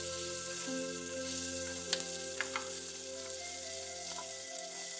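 Onion with chopped mint and coriander sautéing in a pan for a Kongunadu white biryani, a steady close sizzle with a few soft scraping stirs and clinks, alone without talk.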